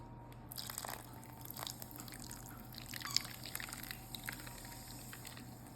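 Mountain Dew soda poured over peach enchiladas in a baking dish, a soft, steady trickle and faint splashing lasting several seconds at low level.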